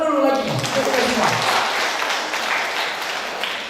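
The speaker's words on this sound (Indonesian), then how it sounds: "Tepuk tangan dulu lagi." Audience at an annual members' meeting of a hospital cooperative breaking into applause, a brief voice at the start, then dense clapping that fades slightly over a few seconds.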